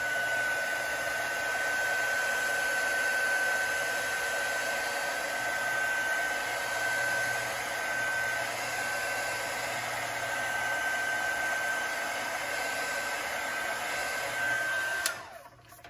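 A heat tool blows steadily on an alcohol ink swirl tumbler, a loud constant whoosh with a faint high whine that runs unbroken for about fifteen seconds before cutting off at the end.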